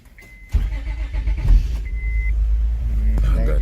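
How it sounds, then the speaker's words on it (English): A 2005 Honda Odyssey's ignition is switched on and the engine cranks and catches with a sudden thump, then settles into a steady low idle, with short electronic chimes before and after. "Turn the ignition on."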